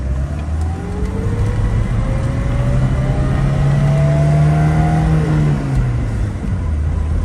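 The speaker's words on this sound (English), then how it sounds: "Does have a 2-liter 4-cylinder engine" A 1973 BMW 2002tii's 2-liter four-cylinder engine with 4-speed manual revs up and climbs in pitch, close and loud, then eases back off, with steady road noise beneath on a farm road.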